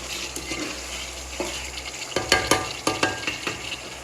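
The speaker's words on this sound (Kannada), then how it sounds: "ಇವಾಗ ಒಳ್ಳೆ ಮಿಕ್ಸ್ ಕೊಡ್ತಾಯಿದ್ದೀನಿ" Chicken biryani masala being stirred in a pan, with scraping spoon strokes and soft sizzling, the stirring growing busier and more rhythmic in the second half, close and alone with no talk.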